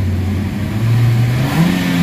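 A 2017 Toyota Altis engine revs upward toward 4,500-5,000 rpm, its tone climbing steadily and loud up close, with a noticeably delayed response from a throttle-delay, low-power fault.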